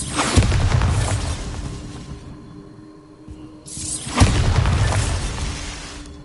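Two Bombarda explosion spells in Hogwarts Legacy: each is a sharp, loud blast that rumbles and fades, and a quieter lull separates them.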